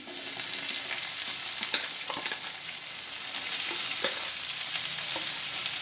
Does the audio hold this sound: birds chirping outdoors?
no